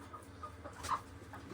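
Australorp hens in a coop on a chicken farm give quiet, scattered clucks over a low background hum. The sound is faint and distant, with no voices.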